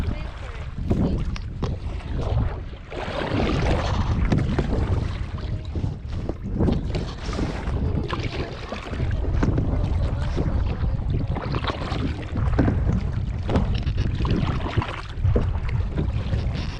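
Paddle strokes from a paddle board on a lake near the Arenal volcano at El Castillo, Costa Rica, heard as steady splashing and rushing water under heavy wind buffeting the microphone, with brief talk.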